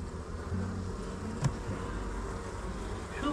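Honey bees buzzing steadily around a hive at an apiary during a hive inspection, a continuous close hum with a brief louder pass midway, no talking.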